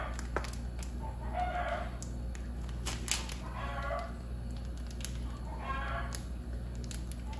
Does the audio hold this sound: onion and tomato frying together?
no